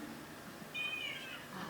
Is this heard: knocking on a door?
no